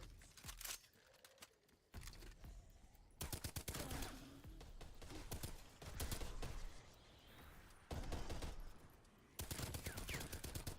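Hip-fired guns in a sci-fi shooter video game, several sharp bursts of automatic fire separated by short gaps, loud and close with brief pauses between volleys.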